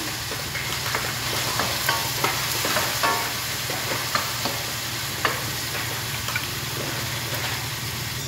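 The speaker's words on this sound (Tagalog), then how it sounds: "samputsahin lang natin" Food sautéing in a home kitchen pan, a steady sizzle and hiss with scattered stirring clicks and scrapes from a utensil, close and continuous, no talking.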